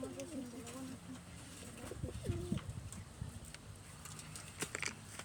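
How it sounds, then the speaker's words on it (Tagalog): Pet pigeons kept by a hunter, soft low cooing phrases heard nearby among rustling and faint pecking sounds, with people talking quietly in the background. "Ito ang aming mga kalapati"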